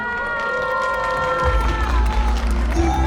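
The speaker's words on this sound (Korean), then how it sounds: "자 올라올 때 다시 한번 더 큰 박수 부탁드리도록 하겠습니다" A festival crowd claps and cheers as six singers walk onto the stage at a Korean singing contest, a loud, steady wash of applause and shouts mixed with sustained music.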